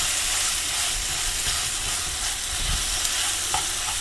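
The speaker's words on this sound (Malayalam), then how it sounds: "ചെറുതായാലും നെയ്യിലിട്ടിട്ടൊന്ന് മുപ്പിച്ചെടുത്താൽ മതി" Mashed banana sautéing in ghee in a pan for a steamed evening snack, giving a steady, close sizzling hiss with faint stirring scrapes throughout, no talk.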